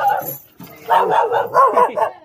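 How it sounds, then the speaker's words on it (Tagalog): A dog barks in a quick series of yips on a street in Tondo, Manila, fairly close and loud, with a person's voice briefly audible around the barks. "Uy, may aso."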